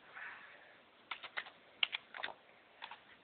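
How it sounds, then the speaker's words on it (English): Fingers tap out a network name on a computer keyboard, a soft, close patter of individual keystrokes in short uneven bursts against a quiet room. "Here's where I type in a network name."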